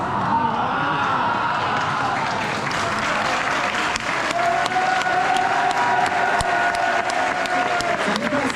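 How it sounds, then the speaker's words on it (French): An audience at a Walibi Belgium event keeps up steady, dense applause the whole time. Its clapping fills a large room evenly, and amplified sound runs underneath. "J'arrive pas à savoir s'ils applaudissent pour la nouvelle stratégie FNB ou s'ils applaudissent pour le RMC."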